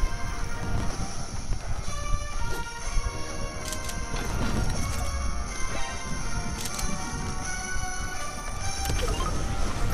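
A train rumbling past in the video game Fortnite, a steady continuous roar with rattling clanks over nearly ten seconds, no talk.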